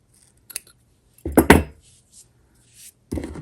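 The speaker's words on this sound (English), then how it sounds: "you can then just trim all the loops" Scissors snip through crochet yarn loops on a mosaic mug rug: a few short, crisp, close-up cuts with quiet gaps between them.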